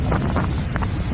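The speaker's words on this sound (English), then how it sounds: "And it's so windy" Gusty beach wind buffets the microphone in low rumbling thumps, loud and close, with no other clear sound beneath it.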